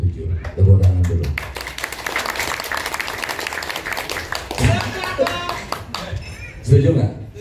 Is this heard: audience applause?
yes